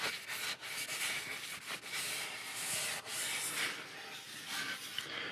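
Wood on an electric guitar body being sanded by hand along a rounded edge: quiet, steady rasping strokes with brief pauses between passes.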